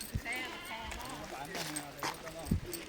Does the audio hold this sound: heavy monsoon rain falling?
no